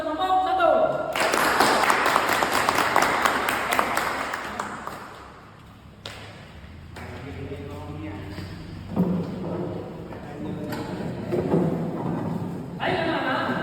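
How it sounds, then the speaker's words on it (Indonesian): A classroom audience claps for a student group, a burst of dense applause that swells for a few seconds and fades, followed by scattered bumps and a person talking. "Sekali lagi berikan aplaus kepada kelompok"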